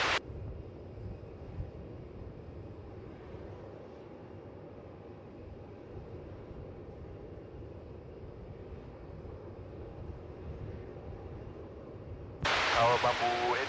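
Airliner taking off from runway 27 at Melbourne Airport, a steady broadband engine roar rumbling on at a distance for several seconds before a louder burst of noise near the end.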